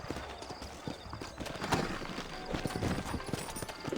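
Horse hooves clip-clop in a steady walking rhythm over an outdoor ambience in the video game Red Dead Redemption, moderately close, with no voices.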